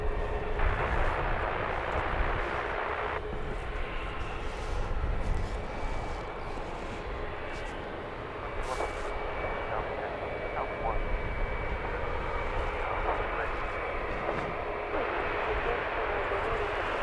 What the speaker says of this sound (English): EasyJet making its way across our camera view now is off to Agadir. It's a little A319.